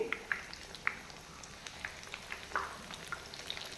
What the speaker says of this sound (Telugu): ఇప్పుడు ఇది వెంటనే కలపకుండా ఒక రెండు నిమిషాలు మీడియం ఫ్లేమ్లో ఫ్రై అవ్వాలన్నమాట